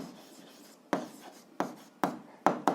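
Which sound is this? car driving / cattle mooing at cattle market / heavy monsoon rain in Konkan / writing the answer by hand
writing the answer by hand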